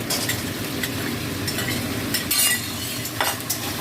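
Papaya pieces, lentil dumplings (bori) and bitter gourd, all already fried, get stir-fried together in a pan for a Bengali shukto: a steady hiss and sizzle with the scrape and clink of a spatula, close and continuous, with no talk.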